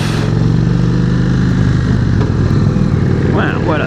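An Indian Springfield motorcycle pulls away with a loud, close engine drone that rises steadily, heard from the rider's seat behind the windshield with wind noise over it.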